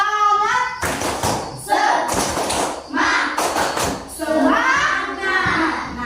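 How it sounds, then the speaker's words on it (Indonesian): Classroom students perform a rhythmic spirit clap together, sharp group claps and thumps in repeated bursts mixed with children's voices chanting along. "Oke, tepuk semangat coba dulu."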